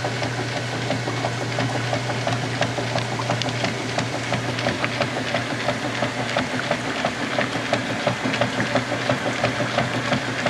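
A washing machine churns a load, giving a steady rumbling hum with regular rhythmic thumps and swishes, loud and close throughout with no talking.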